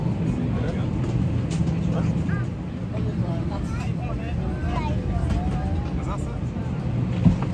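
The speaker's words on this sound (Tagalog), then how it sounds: "Pasok na kami sa loob ng airplane." Inside an airliner cabin before takeoff, a steady low engine and ventilation hum fills the space while passengers chatter nearby and brief bumps and clicks sound throughout.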